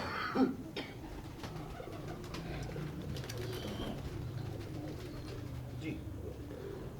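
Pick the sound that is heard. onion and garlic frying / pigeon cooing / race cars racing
pigeon cooing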